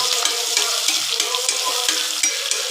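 Sliced onions and green chillies frying in hot oil in a pan for vegetable biryani, a steady close sizzle with occasional stirring scrapes and crackles, no talking.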